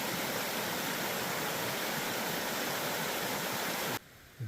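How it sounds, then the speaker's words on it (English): A waterfall on a river in snowy woods roars as a loud, constant broadband rush. It continues without a break, then cuts off abruptly near the end, with no talking over it. "Quite the set of falls there."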